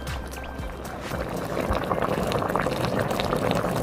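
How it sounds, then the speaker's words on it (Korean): Tofu stew with sliced chili peppers and green onion bubbles in a pot on the stove, a steady, dense simmering rumble that swells and grows louder halfway through and keeps churning with no one speaking. "이제 냄비에 불을 켜고 썰어놓은 고추와 파를 올리고 한 소끔 끓여주세요"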